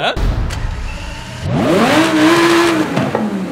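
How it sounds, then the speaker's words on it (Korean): A naturally aspirated V10 Italian sports car engine fires up with a sharp starter whir, then revs up in a rising, growling sweep that holds and settles, loud and close from inside the car. "와우 이것이 바로 자연흡기 V10"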